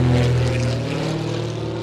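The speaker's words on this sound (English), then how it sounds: "an airplane just flew over me" An airplane passes overhead outdoors during a delivery run, a loud, steady low droning rumble that holds throughout without any voices.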